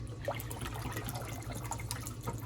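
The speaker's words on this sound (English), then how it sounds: "I put the turkey drippings in this pot right here, and I just added 1 cup of flour. You just want to whisk it in slowly" Turkey drippings with flour whisked in a pot make a soft, wet, continuous swishing and sloshing at close range, steady and low, with no talk.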